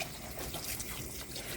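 Water pours steadily into a soup pot in a home kitchen, a soft continuous trickle heard up close for a moment with no talking.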